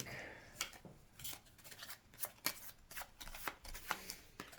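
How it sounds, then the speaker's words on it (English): A deck of cards for a Skyrim adventure board game shuffled repeatedly up close, bursts of sharp papery riffles and snaps in an uneven rhythm, quiet and with no talking. "And shuffle up our spectral deck."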